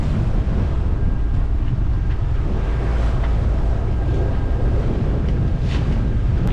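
Strong gusty wind buffets the microphone continuously aboard a sailboat motor sailing with one reef in the main, with a steady low roar of wind and water and no speech.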